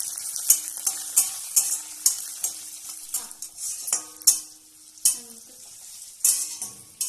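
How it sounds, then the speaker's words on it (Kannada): Onions and chilli frying in a pan, with steady close sizzling broken by repeated sharp scrapes and clinks of a spoon stirring against the metal, no voices. "ಇದು ಸ್ವಲ್ಪ ಹೊತ್ತು ಈರುಳ್ಳಿ ಎಲ್ಲ ಸ್ವಲ್ಪ ಬೇಯುವಷ್ಟು ಹೊತ್ತು ಇದನ್ನ ಲೈಟ್ ಮಾಡಿ ಫ್ರೈ ಮಾಡಿದ್ರೆ"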